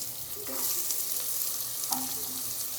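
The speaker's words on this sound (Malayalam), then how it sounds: "അത് കഴിഞ്ഞിട്ട് ഇതിലോട്ട് ഉള്ളി സവാള കൊടുക്കാം" Chopped onions going into hot oil in a home kitchen pan for Kozhikode chicken curry, a steady close sizzle with a few clinks and scrapes of stirring, no voices.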